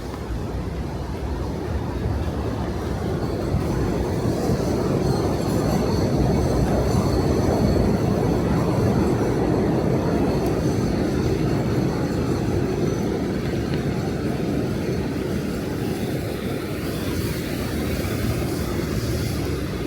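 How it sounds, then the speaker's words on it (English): A train rumbles over an elevated track in Brooklyn near Brighton Beach, a loud, steady roar with a metallic rattle that holds for the whole stretch, heard up close from the street below with no voices. "And then there's the not so relaxing sound of the train going over."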